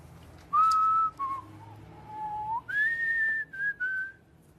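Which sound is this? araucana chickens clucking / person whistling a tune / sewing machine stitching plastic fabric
person whistling a tune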